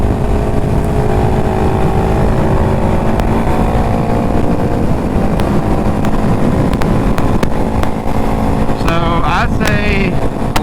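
A Yamaha WR250R motorcycle ridden on a commute, its engine a steady close drone under constant heavy wind rush.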